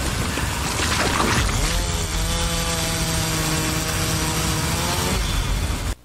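Chainsaw in the horror video game VHS Slaughter, a loud, sustained whining motor that rises in pitch and holds steady for several seconds before cutting off abruptly.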